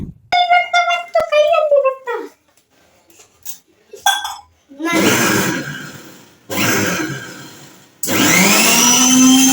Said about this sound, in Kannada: ಪಾಲಕನ್ನ ಸ್ವಲ್ಪ ನೀರು ಹಾಕೊಂಡು ನಾನು ಮಿಕ್ಸಿ ಮಾಡ್ತಾ ಇದ್ದೀನಿ